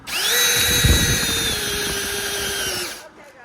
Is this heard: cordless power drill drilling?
yes